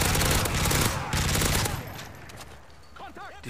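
Rapid bursts of automatic gunfire from the video game Call of Duty: Modern Warfare 3 crackle loudly, then fade as a voice speaks briefly near the end.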